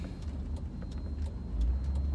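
A car drives along a road, heard from inside as a steady low engine rumble and road noise with faint rattling ticks, rising slightly near the end, no talking.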